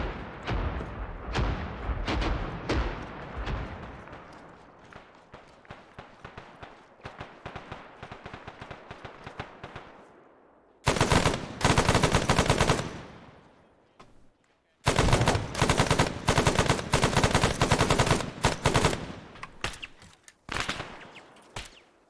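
Rapid automatic gunfire and single shots in the Arma 3 military shooter, dense bursts near and loud, pausing briefly then resuming in heavy sustained volleys with no talk.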